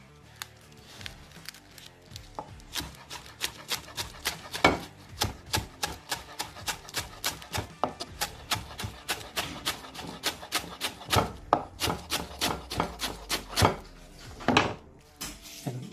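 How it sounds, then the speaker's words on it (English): Repeated sharp knife chops on a cutting board, a quick steady rhythm of close taps slicing through cabbage leaves, with no talking. "Okay, then we go chopping."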